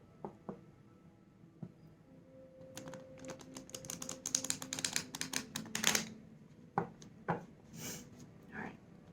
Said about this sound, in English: I'm gonna do one more shuffle just to make sure